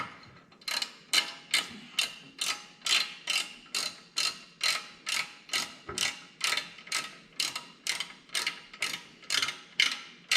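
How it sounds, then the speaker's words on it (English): Allen wrench turning a bolt on a skid plate during installation on a Factory Five MkIV Roadster, a steady series of about twenty rhythmic ratcheting clicks, close and alone. "Using an Allen wrench."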